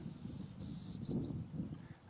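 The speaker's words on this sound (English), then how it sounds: "Birds are chirping." Birds chirping along a wooded hiking trail to a lookout over Pancake Bay on Lake Superior, a thin, high, steady trill in two or three short bursts over quiet outdoor background.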